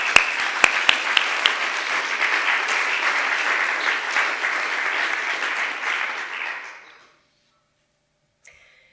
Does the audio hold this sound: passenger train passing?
no